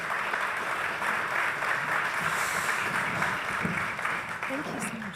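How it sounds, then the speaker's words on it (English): Audience applause for a panel at a summit in New York, a steady dense wash of clapping filling the whole stretch at moderate loudness, with a little murmur mixed in. "Can we give our panel a round of applause"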